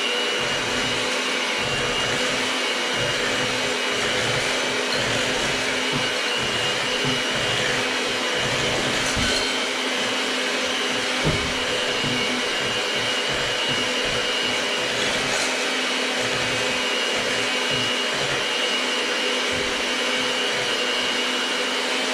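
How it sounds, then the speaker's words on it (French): Electric hand mixer whirring steadily as it beats cake batter of eggs and flour for a savoury vegetable tart, a continuous close motor whine with faint rhythmic low thumps of the beaters throughout. "Maintenant, je remélange avec le malaxeur."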